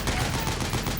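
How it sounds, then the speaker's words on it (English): Heavy machine gun fire in Metal Gear Solid 4 roars in a dense, continuous rattling burst for about a second, loud and close, with rapid overlapping shots blurring together. "Use the machine gun."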